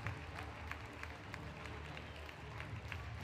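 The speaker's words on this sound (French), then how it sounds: "on vous raccompagne sur les applaudissements" Audience applause at the close of a French Urban Trail 2022 race awards ceremony, a steady dense wash of clapping from a sizeable crowd throughout, fairly distant and even in level.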